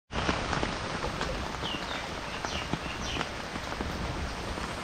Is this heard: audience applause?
no